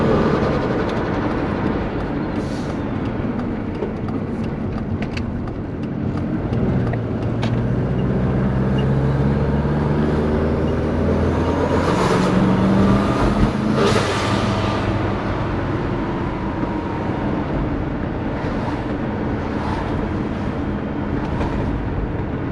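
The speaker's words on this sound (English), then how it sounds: "I'm not sure if it's the boost leak or it's just wastegate." A twin-turbo Subaru Forester engine with a suspected boost or wastegate leak runs in a steady, loud, rough rumble with a hissing, whooshing edge that persists unbroken for about twenty seconds.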